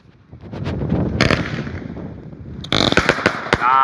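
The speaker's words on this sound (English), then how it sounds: "100 shot Skycrafter and an 80 shot Brothers cake together." A 100-shot Skycrafter cake and an 80-shot Brothers cake lit together outdoors in the UK, giving a dense run of crackling pops and sharper bangs that builds toward the end, with a few distant voices.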